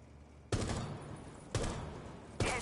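Three separate gunshots from a video game shooting range, fired at targets, each a sharp loud crack with a short tail, spaced about a second apart with no talk.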